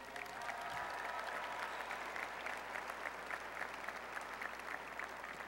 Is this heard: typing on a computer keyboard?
no